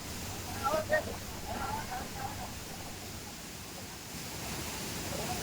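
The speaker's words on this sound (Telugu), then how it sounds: "enjoy with water falls" Koheda Waterfalls at Pedda Amberpet near Hyderabad in monsoon flow gives a steady, broad rush of falling water with some wind, and brief voices sound over it early on.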